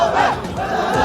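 A large agitated crowd shouts in unison at a political clash in Vadanappally, Thrissur, a loud, dense roar of raised voices with no single speaker standing out.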